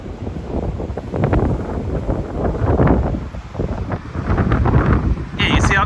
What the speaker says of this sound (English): I'll take off the microphone so all you guys can hear how windy it is.